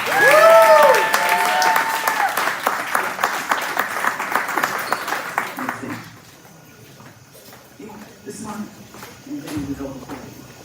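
Warm applause from an audience at a National Action Network chapter gathering in Louisville, Kentucky, loud and dense at first and then fading after about six seconds, when quiet murmuring and shuffling remain.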